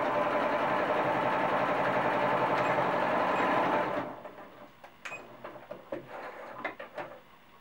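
A sewing machine stitches cloth doll pieces in a fast, steady whir for about four seconds, then stops, followed by scattered small clicks and handling sounds.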